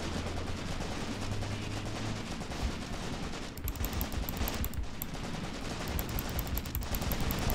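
Infantry gunfire in the video game Graviteam Tactics: a dense, continuous rattle of rifle and machine-gun fire over a steady background, with some sharper cracks standing out.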